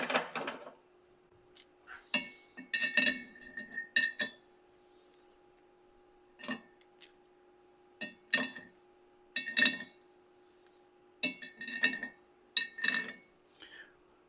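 Metal wheel studs clink and tap as they are fitted into a new rotor on a Ford Dana 50/60 front axle hub, sharp irregular clusters of metallic clinks separated by quiet pauses, close and fairly faint.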